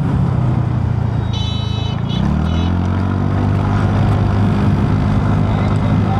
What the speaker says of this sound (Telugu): పెద్ద పెద్ద గుంతలు అయితే వచ్చి నేనైతే స్పీడ్గానే పోనిస్తున్నాను.